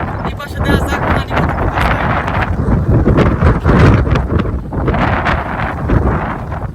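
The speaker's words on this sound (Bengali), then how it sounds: "বাতাসে খালি ক্যামেরার মাঝে খালি বাতাসের শব্দ শোনা যায়" Strong wind gusts buffet a camera microphone in a wide open field beside a canal where tilapia are being fished, a loud continuous low rumble with rustling bursts throughout.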